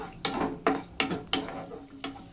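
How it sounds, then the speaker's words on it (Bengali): Cashews and raisins lightly frying in hot oil, with a soft sizzle broken by five evenly spaced scraping stirs from a utensil against the pan. "এর মধ্যে আমি কিছুটা কাজু কিশমিশ নিয়েছি, সেটাকে এর মধ্যে হালকা করে একটু ভেজে নিচ্ছি"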